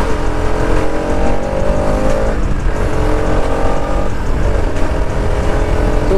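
A motorbike ridden fast along an Indian road, its engine droning loud and steady with shifting pitch as it gains speed, wind rush constant throughout.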